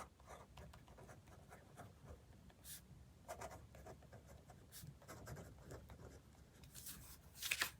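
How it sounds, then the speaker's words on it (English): Pen scratching across a paper planner card, a quiet, intermittent rubbing and stroking that comes in short bursts, close up and soft. "write what I'm making for dinner"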